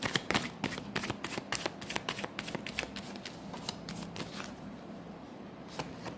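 A deck of tarot cards is shuffled by hand, giving a steady run of crisp riffling flicks and slaps that slow and fade toward the end, close and with no talking.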